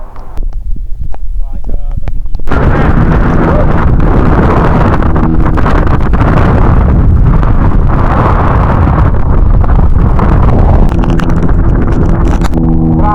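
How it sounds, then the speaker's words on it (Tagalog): Typhoon Nando's strong wind and rain batter a coastal area, where a roaring, buffeting gust noise rises abruptly after a quieter opening and then stays loud and constant, with heavy rushing and pounding against the microphone. "Sobrang lakas ng bagyong to."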